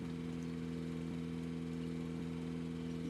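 Suzuki Samurai engine in the video game Mudrunner, a steady, faint, buzzy drone with a rapid mechanical hum, running on evenly without change throughout.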